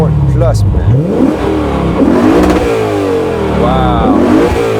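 A Lexus RC F in Sport Plus mode revs hard several times, each loud exhaust sweep rising and falling close by with a deep, throaty roar.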